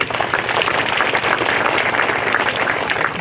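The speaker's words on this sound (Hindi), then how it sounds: "तो ताली बजा" Steady applause from a congregation at a thanksgiving mass, dense and continuous throughout with no one speaking over it.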